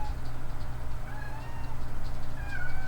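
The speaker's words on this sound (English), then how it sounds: "Probably hear my cats." Domestic cats meowing in a room, several short rising meows spread across a few seconds over a low steady hum, moderately near and without talk.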